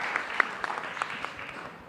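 An audience at a youth conclave applauds steadily for a speaker on stage. The clapping is dense and moderately loud, with a few sharper claps standing out, and it fades slightly near the end.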